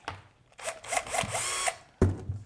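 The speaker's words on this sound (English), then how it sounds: "so we drill a hole first" A power drill bores a hole in wood, whining in short bursts close by with brief pauses, ending with a sharp knock as the bit stops.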